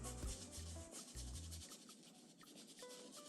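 A paintbrush scrubs underpainting onto canvas during a painting demonstration, giving soft, quick rubbing strokes that are fairly faint and close, with a steady scratchy texture and no voices.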